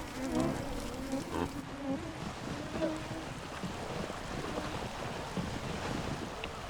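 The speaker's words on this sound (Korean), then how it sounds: "겨울의 추위만큼이나 무서운 것은 여름의 모기떼다" Dense swarm of mosquitoes droning in open tundra, a steady insect buzz layered over wind rumble on the microphone, continuous throughout with no voices.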